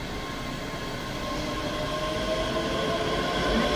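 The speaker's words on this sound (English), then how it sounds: "10:21 Scotrail service from Edinburgh Waverley to Glasgow Queen Street" A ScotRail passenger train at Edinburgh Haymarket station departing toward Glasgow Queen Street, a steady rumble of rolling wheels and engine hum that builds slightly, heard without talk.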